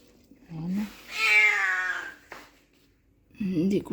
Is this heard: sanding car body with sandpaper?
no